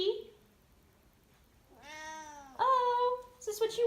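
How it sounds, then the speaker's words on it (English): A cat lets out two or three clear, drawn-out meows close by, rising in pitch, after a short quiet moment, with a person's voice briefly around them. "Oh, your meow is so pretty."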